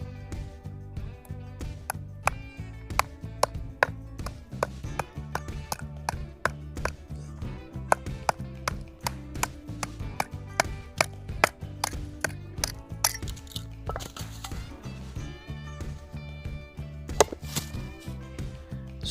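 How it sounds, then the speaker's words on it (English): An Estwing pocket knife being batoned through a pine 2x4: a steady, fast series of loud, sharp wooden knocks and thwacks, close up and continuous, with no voices. "Here's some batoning."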